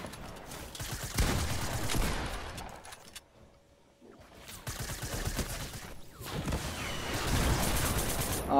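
Gunfire crackles in a shooter video game during an SMG-only challenge, with a shotgun among the weapons. Dense bursts of rapid shots come up close, stop for a brief lull, then resume.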